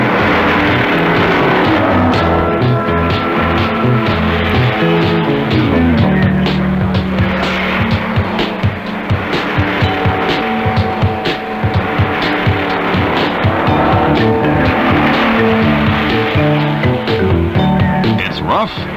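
Racing cars roaring through a motorized medley event in Australia, engines revving and tyres working in a steady, loud rush with rising and falling motor notes, heard under a narrator's voice on an old newsreel soundtrack.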